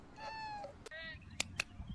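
A cat meows several times, short rising and falling calls that are fairly faint, with quiet background sounds and a couple of brief clicks.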